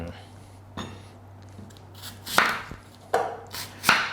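A knife chops through a crisp green apple on a board, a few sharp cuts with pauses between them, close up over a low steady hum.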